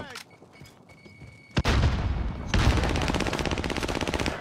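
Gunfire in the video game Warzone Caldera: a quieter stretch, then a sharp shot and sustained rapid automatic fire that stays loud and close, with dense repeated bursts through the last half.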